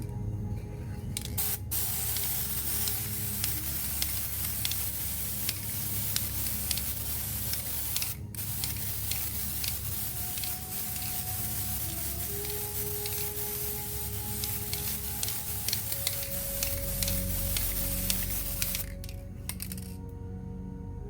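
Long continuous hissing of an aerosol spray paint can, steady and close, running for many seconds with a few brief pauses.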